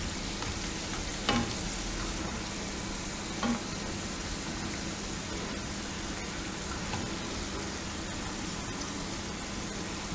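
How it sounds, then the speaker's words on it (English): Modak fry in hot oil, a continuous close crackling sizzle like light rain, steady throughout with a couple of faint utensil taps and no voices. "Turn it and let it fry from all the sides very nicely."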